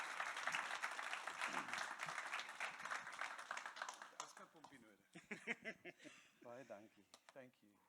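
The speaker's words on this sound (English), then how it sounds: "Let's give him a round of applause." An audience at an evening event gives applause, dense clapping that fades out over the first half before a voice speaks near the microphone.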